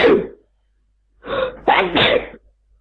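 Someone sneezes indoors, with a short burst at the start, then a breathy build-up and a sharp double sneeze, close and fairly loud with silence between.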